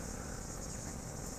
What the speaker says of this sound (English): we've got a whole lot of cicadas